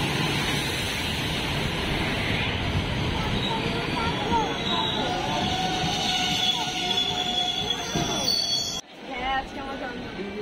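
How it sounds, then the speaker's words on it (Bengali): A Sealdah–Lalgola passenger train pulls into Kasimbazar station, its steady rumble of wheels and carriages continuous and loud with faint squealing, ending in an abrupt drop near the end. "দেখতে পাচ্ছেন শিয়ালদা লালগোলা প্যাসেঞ্জার ঢুকছে কাশিমবাজার স্টেশন"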